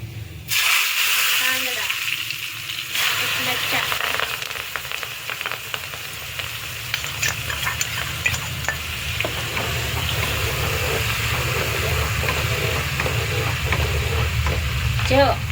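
Asafoetida and curry leaves crackle and sizzle loudly in hot oil, a steady, dense frying hiss close by, with occasional stirring clatter throughout.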